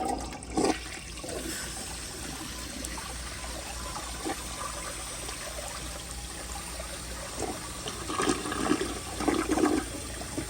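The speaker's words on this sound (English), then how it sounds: "here's a flush" A 1978 Eljer Emblem toilet flushes with a loud, steady rush of water lasting about ten seconds, with gurgling swells near the end.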